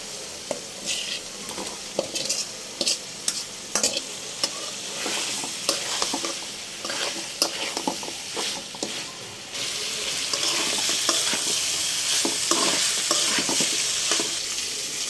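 Chicken pieces sizzle loudly in spice paste in a kadai while a spoon scrapes and stirs in repeated strokes, and the frying grows steadier and louder toward the end.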